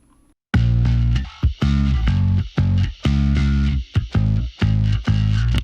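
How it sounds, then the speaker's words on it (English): A distorted bass guitar with a buzzy, broken-speaker tone and heavy low end plays a choppy riff of short, loud notes separated by brief gaps. It sounds close and alone, with no voices. "So I wanted it to have that kind of like broken speaker, really low end, just buzzy kind of cut."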